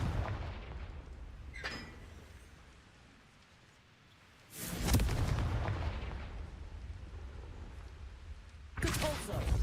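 Confringo fire spell exploding in Hogwarts Legacy, a loud booming blast midway that rumbles and fades, followed by a second burst at the end, with a quieter stretch and a brief earlier crackle.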